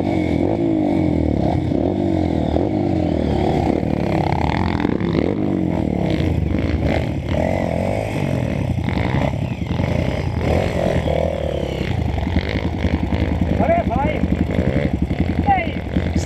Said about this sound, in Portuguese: Sem pneu, minha moto é bruta